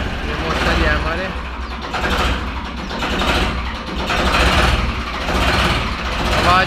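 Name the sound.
Ford 3600 tractor engine running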